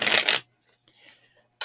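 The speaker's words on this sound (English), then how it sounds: "shuffle these cards for you." Tarot cards are shuffled in two quick riffling bursts, loud and close, with a brief pause of soft handling between them and no talking.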